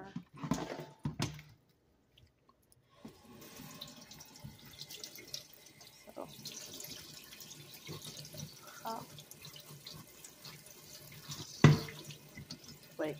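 Hot water runs from a kitchen tap onto a dish rack being cleaned with white vinegar, a steady close splashing flow that continues for several seconds after a short quiet gap, with a brief clatter near the end.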